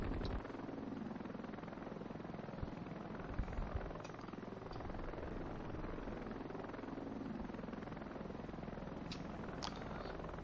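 A Ka-25 helicopter flies in the combat game Heliborne, its rotor and engine making a steady, dense drone throughout, with a few faint clicks on top.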